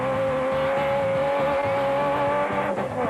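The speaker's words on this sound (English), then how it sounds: "no better way to see a master at work than to jump in the car with him and co-driver Moore." A rally car engine drones hard at speed during the Magalies 400 rally in 2008, heard from inside the car as a steady loud roar with a sustained tone and gravel rumble.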